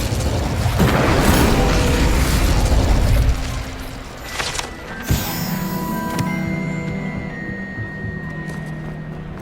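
Incendio fire spell cast in Hogwarts Legacy, a dense rushing whoosh of flame up front that fades, followed by a sharp burst and a lingering crackling, ringing tail.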